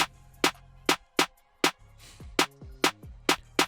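Two Virox build-up snares struck together in a moombahton remix, about eight sharp, evenly spaced hits ringing out alone with short tonal tails.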